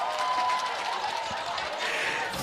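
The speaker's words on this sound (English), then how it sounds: "Crowd goes wild." A large arena crowd cheers at the Mobile Legends MPL-PH grand finals, a dense, steady roar of voices that holds at full loudness throughout.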